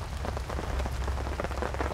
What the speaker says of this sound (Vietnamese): Mưa gió mát trời.